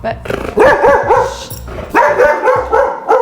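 A dog from Romania barks close and loud in several sharp bursts separated by brief pauses, with yipping, whining tones between barks and a human voice mixed in.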